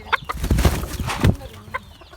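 Chickens and a white rooster cluck and flutter close by in a short burst of agitated squawks, with a brief sharp call near the end.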